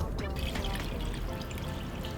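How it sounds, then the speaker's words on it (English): Water poured from above into a stock pot over raw chicken wings, a continuous splashing pour lasting a couple of seconds, close and moderately loud. "Now pour in enough water to cover up that chicken."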